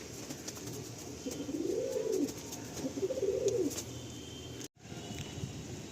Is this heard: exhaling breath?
no